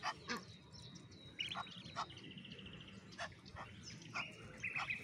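Ducks at a pond quack and honk in short repeated bursts at a faint distance, several birds calling irregularly over a soft outdoor background.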